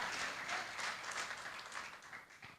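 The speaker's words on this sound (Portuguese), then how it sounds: "Palmas para Jesus." Members of a church congregation clap together, a soft, fairly distant, continuous patter of many hands that gradually fades toward the end.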